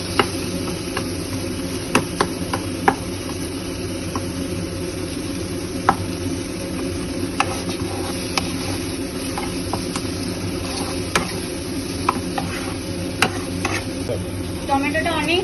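Tomatoes sizzle in a hot pan for a paneer bhurji while a spoon stirs them, scraping and clicking sharply again and again over a constant frying hiss. Close and steady.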